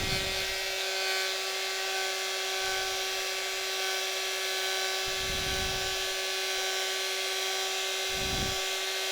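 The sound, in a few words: heat gun blowing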